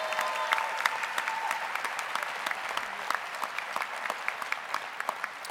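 An audience at a university men's basketball head coach introduction applauds steadily, dense clapping filling the room with a few sharper claps standing out near the front, no voices over it.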